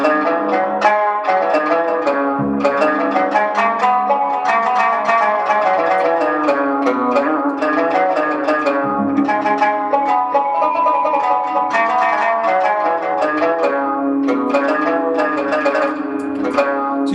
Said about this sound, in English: So makam bayat, for example, which is a very basic quarter tonal makam, would sound something like this.